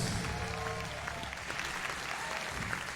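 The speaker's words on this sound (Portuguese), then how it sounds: "Pode aplaudir o Senhor mais forte, queridos." A church congregation applauds at an Easter celebration service, a steady wash of clapping that holds for the whole stretch, with faint voices and a few tonal traces mixed underneath.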